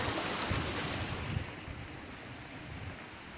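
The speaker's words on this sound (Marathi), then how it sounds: "पावसाचे नैसर्गिक असे धबधबे छोटे छोटे नाले" A continuous wash of rushing water from Varjhot Waterfall in the monsoon rain, louder at first and then settling, with wind noise and no voices.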